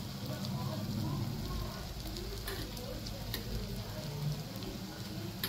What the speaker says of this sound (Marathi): आता माझा हा घरगुती काळा मसाला त्यात मी टाकून घेते